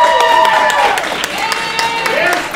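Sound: applause

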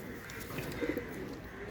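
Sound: high-flyer pigeons cooing

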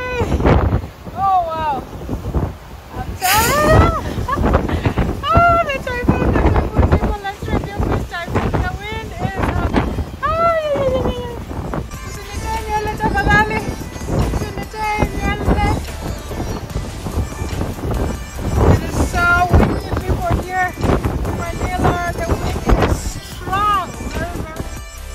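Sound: strong typhoon wind

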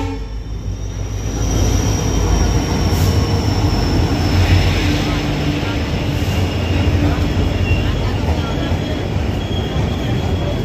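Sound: Ajmer Amritsar Express train with WDP4 diesel locomotive

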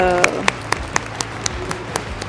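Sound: loud applause from sumo tournament crowd

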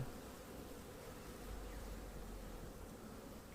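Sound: honey bees buzzing around an open hive

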